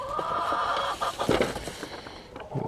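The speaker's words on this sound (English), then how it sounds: "Got us some" Hens squawking and clucking inside a coop, a continuous agitated chatter of several birds, close and fairly loud, with no talking.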